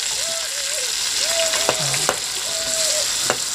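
Ground masala paste frying in hot oil, a loud close sizzle with a few stirring clicks, under a recurring whistling tone.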